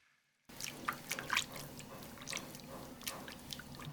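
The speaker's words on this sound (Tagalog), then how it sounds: "Magbuhos din tayo ng tubig." Water is poured into a pan of melted margarine and flour, giving a quiet spattering and bubbling crackle that starts abruptly after a brief silence and continues unevenly.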